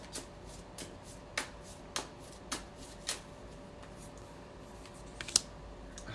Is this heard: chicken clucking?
no